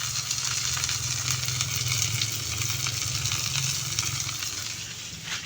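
Eggplant omelette (tortang talong) fries in a pan with a steady, close sizzle and crackle that runs unbroken throughout, with no talking.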